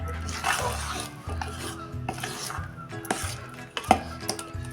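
Semolina stirred and mixed in a pan while being prepared for sweet laddoos, close scraping strokes at an uneven rhythm with a light sizzle and occasional clinks of utensil on metal.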